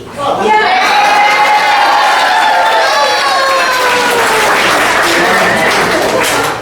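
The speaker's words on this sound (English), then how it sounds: "Let's also have a round of applause for Lorraine T" A room full of people at a Rocky Fork Headley Hunt gathering at Flanagan's breaks into loud, sustained applause and cheering, with voices calling out over the clapping before it tapers.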